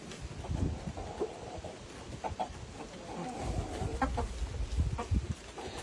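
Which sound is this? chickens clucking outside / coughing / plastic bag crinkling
chickens clucking outside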